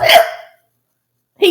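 A cartoon penguin gives a short voiced hiccup, loud and close, followed by silence and the start of another hiccup at the end.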